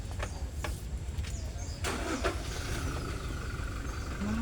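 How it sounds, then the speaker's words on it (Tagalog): A loud motorcycle engine revs and drones close by amid busy market street noise, with faint voices in the background. "Ang lakas ng motor."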